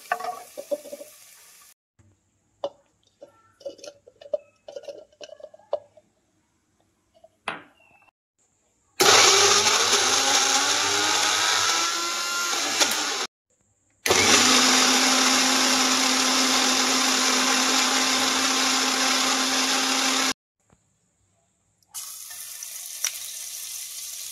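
Mixer grinder whirring loudly in two long bursts of several seconds each while grinding snack ingredients in a mixie jar, with softer kitchen clatter before and a short final burst.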